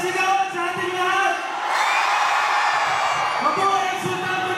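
At an outdoor town gathering in Sultan Kudarat, Maguindanao, a large crowd keeps up loud, continuous shouting and cheering that swells midway, with an amplified voice riding on top of the din.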